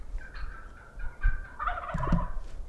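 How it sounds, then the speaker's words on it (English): A Merriam's wild turkey gobbles from a distance on public land in Utah, one clear rattling gobble sequence rising and trailing off, fairly faint against quiet outdoor background. "The gobbler's up."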